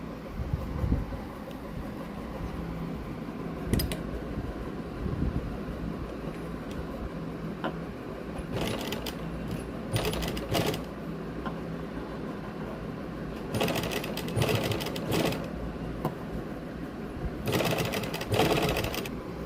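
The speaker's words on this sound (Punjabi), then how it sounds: "ਇਸ ਤੋਂ ਬਾਅਦ ਆਪਾਂ ਇੱਧਰ ਸਲਾਈ ਲਾਵਾਂਗੇ" Sewing machine stitching the sleeve fabric of a lace-trimmed sleeve, a steady close whirring run with brief louder bursts of fast stitching, no talk.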